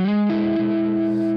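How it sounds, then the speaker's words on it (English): An electric guitar played through an RC booster pedal into a Marshall DSL-1 tube amp rings out with a distorted, sustained chord that holds steady and loud. "So right now I'm going through my RC booster into the Marshall DSL-1."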